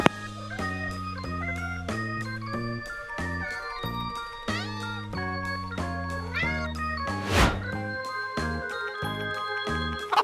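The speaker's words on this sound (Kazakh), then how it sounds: "Мысық." A cat meows once over a steady, bouncy music backing; the meow stands out briefly amid the tune.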